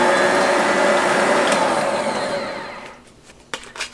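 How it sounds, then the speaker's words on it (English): A Bosch stand mixer fitted with cake paddles whirs loudly and steadily close by, then winds down and stops, followed by a few light clicks and knocks. "Now today I'm using the cake paddles to do this recipe. Now the cake paddles also were part of the deluxe package that I got with my Bosch mixer."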